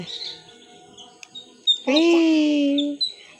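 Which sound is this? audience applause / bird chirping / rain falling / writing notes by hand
bird chirping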